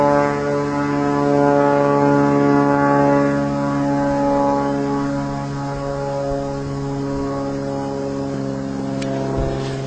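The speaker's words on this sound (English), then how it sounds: "Plane coming back." A propeller airplane drones steadily overhead, a continuous low engine hum with strong harmonic tones that swells slightly and then eases for about ten seconds, with no talking.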